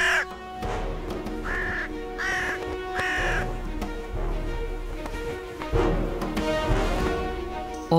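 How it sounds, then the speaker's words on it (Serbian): Hooded crows caw harshly in the open mountains of Corsica, several rough calls spaced out over a windy, rumbling background, moderately near. "Ove sive vrane žele nešto zaštititi."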